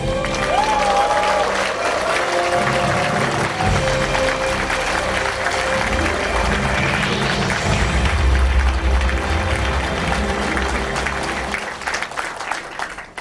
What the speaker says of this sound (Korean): 우리와 같은 함성과 박수로 오늘 창당 발기인 대회를 시작하겠습니다